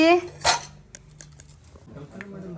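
A one-year-old boy bangs metal kitchen pots and vessels while playing at cooking, with a sharp clatter near the start and then scattered lighter clinks at close range, with a voice talking softly underneath.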